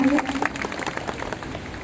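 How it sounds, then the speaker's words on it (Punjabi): A church congregation claps together in a short burst of brisk applause, moderately loud and close, with a voice heard over the clapping. "ਸਭ ਜਨ ਜ਼ੋਰ ਦੀ ਤਾੜੀ ਨਾਲ ਪਰਮੇਸ਼ਵਰ ਦੇ ਨਾਮ ਦੀ ਮਹਿਮਾ ਕਰਾਂਗੇ"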